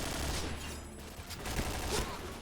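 Rapid bursts of video game gunfire crackle in quick succession, loud and close, with a dense sustained barrage throughout.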